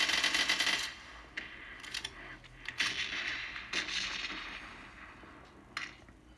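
Gunfire crackles during a firefight in PUBG Mobile on an iPhone 6s: a dense burst opens, followed by scattered single sharp shots and cracks, moderately loud over a low background hum with no talking.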